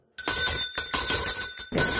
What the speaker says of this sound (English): When you hear that bell, baby, you know something amazing is about to happen.